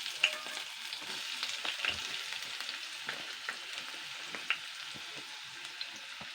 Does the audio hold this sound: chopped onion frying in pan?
yes